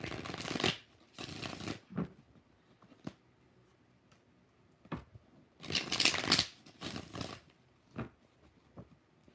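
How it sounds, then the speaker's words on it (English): Tarot cards being shuffled in a live tarot reading, heard as several distinct bursts of riffling and patter, each a second or so long, separated by quiet gaps with faint clicks. "6 shuffles."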